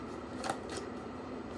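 A quick riffle of playing cards being shuffled, close and crisp, lasting about a second and a half.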